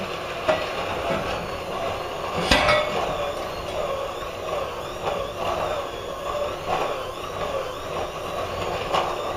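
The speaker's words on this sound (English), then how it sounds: "Put the rest of my mixture in and finish off mixing." Thick cookie dough is worked around a bowl, with repeated scraping and knocking of a utensil against the bowl in an irregular rhythm and a sharper clank now and then, close by.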